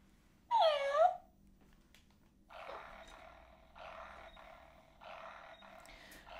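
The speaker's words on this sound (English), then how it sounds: "So she's purring there and I can tell you there is no vibration. It's a fairly hefty purr." A 2002 FurReal Friends robotic toy cat gives a hefty, rasping electronic purr in loud rhythmic bursts, preceded by a short yowling cry, heard close up without voices.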